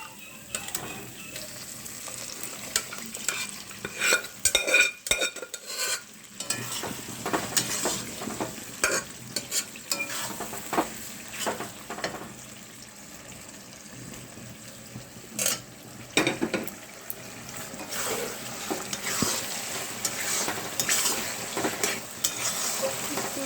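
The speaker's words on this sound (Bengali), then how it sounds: "এবার এই কড়ার মধ্যে মটনটা দিয়ে দেবো আস্তে আস্তে করে" Boiled mutton tipped into a kadai of hot oil, crackling and sizzling while a spatula scrapes and stirs in irregular bursts, with sharp clatters against the pan and no talking.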